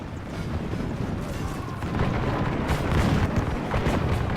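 Arquebusiers open fire in the Medieval II: Total War battle game, a dense, continuous rumble of overlapping musket shots and battle noise that swells louder midway and stays heavy to the end.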